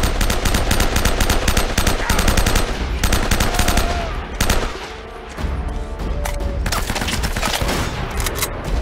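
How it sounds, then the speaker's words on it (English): Shotgun blasts and other gunfire in the video game Uncharted: Drake's Fortune, loud and dense, with rapid overlapping shots, a brief lull midway and then more firing. "There's another shotgun somewhere."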